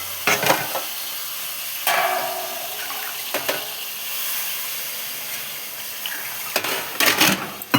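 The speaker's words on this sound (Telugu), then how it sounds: "వాటర్ వేసుకుందాం." Water poured into a cooking pan on the stove, a steady hissing rush with a few louder splashes and clatters, no voices over it.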